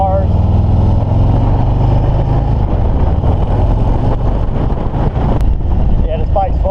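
Harley-Davidson Breakout motorcycle, a low, fast bike with drag bars, heard while riding as a constant loud engine drone mixed with heavy wind rush.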